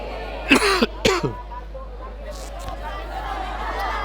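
Two sharp, close coughs in quick succession from a preacher ending a religious lecture, followed by a faint murmur of a crowd in a reverberant room.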